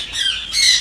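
Birds kept in a home aviary give a loud, harsh squawk that rises and falls over less than a second, heard close up.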